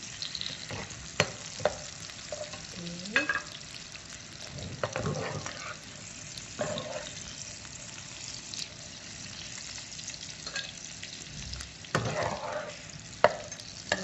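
Food for nasi ayam penyet, fried chicken, sizzles and fries in hot oil, with occasional stirring and scraping clatters from a utensil against the pan throughout.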